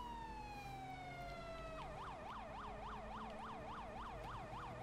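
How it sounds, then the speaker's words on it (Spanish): Argentine Federal Police Ford Focus ST siren in GTA V, starting with a descending wail and then switching to a rapid up-and-down yelp, several repeated cycles, faint and steady with no talking. "Por cierto, la sirena mola, ¿eh?"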